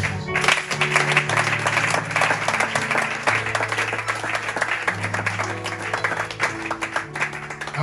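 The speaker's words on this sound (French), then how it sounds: "Et tu acclames ça" A church congregation applauds steadily and loudly for the whole stretch, the dense clapping of many hands carried over sustained keyboard or organ chords.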